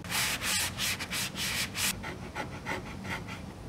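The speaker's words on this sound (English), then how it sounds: "I removed it with a combination of a sanding block and even a chisel" Rhythmic back-and-forth rasping strokes of a sanding block on maple wood, close and steady, about a dozen passes with no talking.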